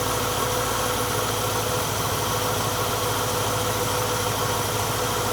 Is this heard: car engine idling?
yes